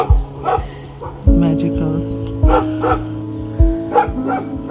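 A dog in a village in Rucăr, Romania barks sharply several times in an irregular series, fairly close, while a person speaks over the barking.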